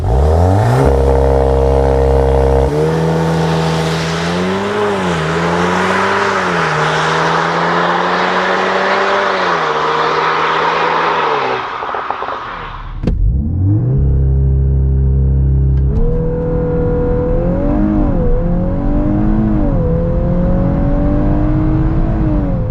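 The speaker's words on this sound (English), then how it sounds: "So let's kick it off with a 0 to 100 launch control." VW Golf 8 R 320hp doing a launch-control 0-100 run on wet tarmac: loud engine revs climbing through gears with a brief drop at a shift, then pulling hard again, no talk.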